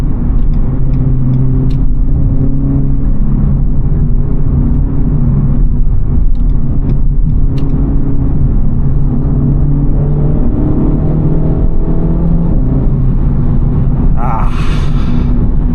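A 2024 Renault Megane RS 300 Trophy, 300 hp, drives with its engine revving, a loud continuous low rumble that rises and falls through gear changes, heard from inside the car.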